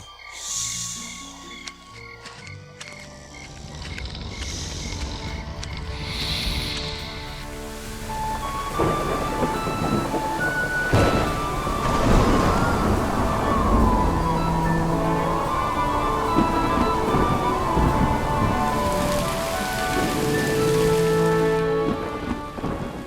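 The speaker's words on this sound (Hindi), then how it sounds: "जब वसुदेव ने सिर पर टोकरी लिए तूफानी नदी को पार किया तो पानी उनके कंधे से ऊपर नहीं उठा।" Heavy rain and rolling thunder of a storm over a river, with thunder rumbles bursting through steady close rainfall that builds and stays loud for the rest of the scene, layered with music-like tones.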